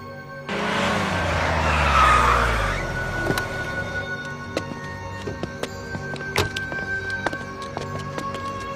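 A car arrives with tires squealing in a loud skid that swells and fades over a couple of seconds, followed by an idling engine with scattered clicks and knocks nearby.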